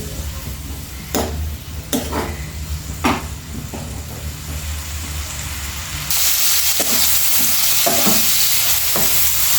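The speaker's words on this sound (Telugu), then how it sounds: "చూడండి ఇట్లా మంచిగా ఫ్రై చేసుకోవాలి ఉల్లిపాయలు ఫ్రై" Onions fry in a pan with a continuous close sizzle and repeated sharp scrapes from stirring, the hiss swelling louder in the last few seconds; no speech.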